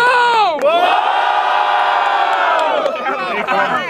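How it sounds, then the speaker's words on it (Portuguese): A large crowd at a rap battle cheers and shouts loudly and continuously, a sustained roar of voices with whoops rising and falling throughout. "barulhos pra quem gostou das rimas de João"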